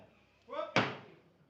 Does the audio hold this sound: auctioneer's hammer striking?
yes